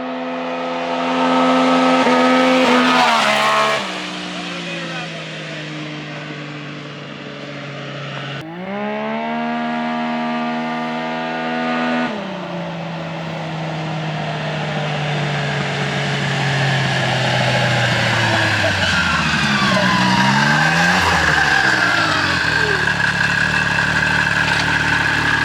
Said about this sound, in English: It took a while for it to hit the rev limiter, but it did do a 4-wheel drive burnout.